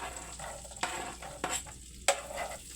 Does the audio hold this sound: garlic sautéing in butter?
yes